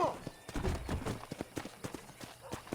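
Horse hooves clip-clop in a steady rhythm in Red Dead Redemption, close and distinct, with a voice speaking briefly at the start.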